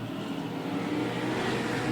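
Race cars accelerating on a racetrack, a steady engine roar holding at moderate level throughout with no talk over it.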